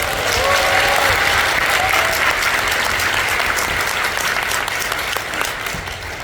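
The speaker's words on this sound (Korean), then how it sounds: "감사의 박수 한번 드려요" A seminar audience in a hall breaks into loud, sustained applause that fades gradually, with a few faint voices and whistle-like tones near the start.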